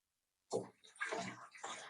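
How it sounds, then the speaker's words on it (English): Hydroponic nutrient water being stirred in a container, a short close-up swish and slosh that starts abruptly after a moment of silence. "I'm going to give this a really good stir."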